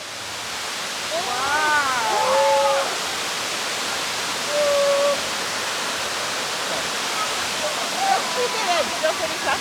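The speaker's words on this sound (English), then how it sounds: "Oh, that waterfall is so pretty, man." Steady broadband rush of the waterfall at Blue Hole in Ocho Rios, Jamaica, fills the scene continuously, with people's voices talking over the roar.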